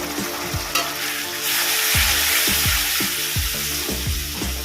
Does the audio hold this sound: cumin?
yes